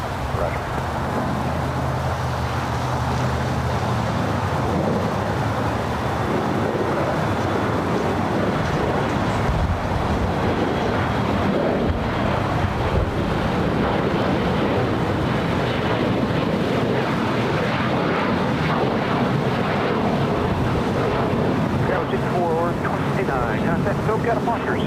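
A jet taking off from runway 25 right at LAX gives a long, loud, broad engine roar that swells and rumbles steadily, with wind buffeting and people talking over it.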